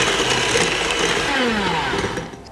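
Electric mixer beating carrot muffin batter of oil, vanilla and wet ingredients: a loud, steady motor whir with a grinding, churning texture, running continuously and easing slightly at the end.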